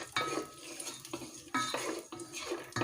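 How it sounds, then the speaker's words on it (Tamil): Cashews dropped into melted ghee in a pan land with a few distinct clattering bursts, followed by soft sizzling and utensil scrapes between them. "ஸோ இந்த கேஷ்யூஸ் இதில் ஆட் பண்ணுறேன்."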